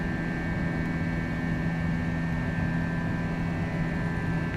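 Engines of an A321 airliner at climb power, as heard in a flight simulator: a constant broadband roar with steady tonal hum, unchanging and continuous throughout, with no speech over it.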